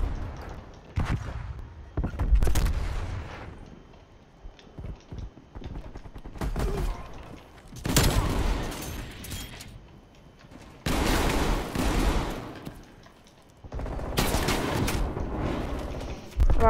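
A Street Sweeper shotgun fires in Call of Duty Cold War multiplayer, loud blasts in bursts separated by short quieter gaps.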